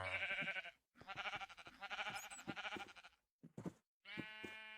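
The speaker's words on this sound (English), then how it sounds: "Let's breed some sheep up for him." Sheep bleating in the video game Minecraft: a run of loud, wavering bleats separated by short silences, with the final bleat drawn out and steady.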